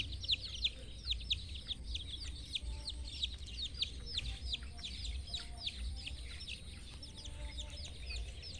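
Chickens cluck and chirp steadily in a Thai morning farmyard, a dense run of short repeated calls at moderate distance over a low background rumble.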